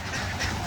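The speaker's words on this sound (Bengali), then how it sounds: "দেখেন সব হাঁসগুলো খেলতেছে।" Farm ducks give a brief burst of nasal quacking, close and fairly loud, in a short busy flurry.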